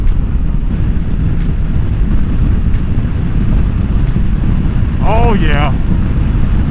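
A 2022 Honda African Twin motorcycle cruises at about 4,000 RPM, a steady low engine drone mixed with heavy wind rush, with a brief spoken exclamation near the end.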